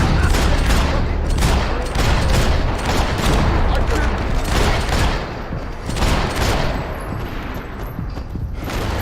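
Gunfire in the Max Payne 3 game, a dense, loud and continuous fusillade of rapid shots and booms filling the whole stretch, with a brief dip in intensity before it surges again.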